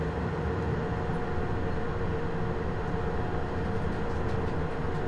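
A CFR Class 47 locomotive runs steadily in Train Simulator Classic, giving a constant rumbling drone of engine and rolling wheels with a faint tonal hum, even and unbroken throughout with no talking.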